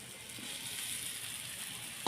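Soybean chunks sizzle in a pan of spiced masala for soybean rolls, a steady close frying hiss throughout that ends on a brief utensil knock.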